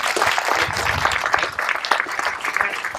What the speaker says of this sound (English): his outstanding staff deserve the applause right now